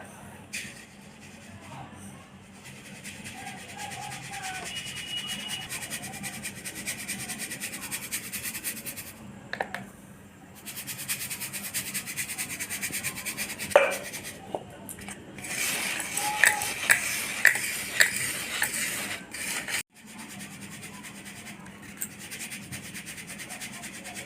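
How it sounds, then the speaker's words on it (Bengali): Home-ground rice flour being sifted through a sieve for tal sarucakli pitha, a steady soft rubbing and scratching that runs on for a long stretch with short pauses and a few sharp taps, fairly close, with occasional quiet voice. "চালের গুঁড়ো করে নিয়েছি আমি এটা মিক্সারে তো এটা এখন আমি চেলে নেবো"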